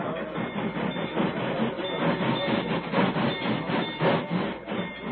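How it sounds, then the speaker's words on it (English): A train rumbles across a railroad bridge as a radio drama sound effect, a continuous heavy rolling clatter with rhythmic wheel clicks, steady and fairly loud, with no voices over it. "Where'll that train stop? As soon as it's across the bridge."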